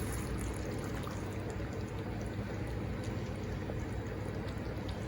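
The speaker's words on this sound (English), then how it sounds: "a little tomato ketchup to our water. Gonna pour that in." Water mixed with tomato ketchup pours steadily into a cooking pot for Jamaican stew chicken gravy, a continuous close liquid splash and trickle with no talking.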